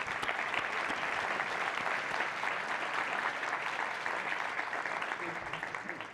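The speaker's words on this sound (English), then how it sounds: "a big applause for our 4 finalists" Sustained applause from a large summit audience for four competition finalists, dense and steady clapping filling the hall for the full six seconds, slightly tapering at the end, with no voices over it.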